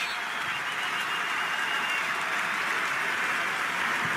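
A stadium crowd at a Juventus football match applauds as Dybala walks off the pitch, a broad, distant, unbroken roar of clapping and crowd noise held at a steady level.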